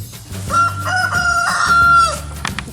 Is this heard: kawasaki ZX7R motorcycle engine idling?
no